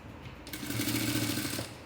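A sewing machine stitches a puff sleeve onto lining fabric, starting after a quiet moment into a quick, steady mechanical whir that runs close and alone for over a second.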